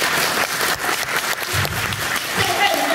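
An audience at a Kymco motorcycle launch event in Taiwan claps loudly and continuously for a few seconds, with a voice speaking over the applause.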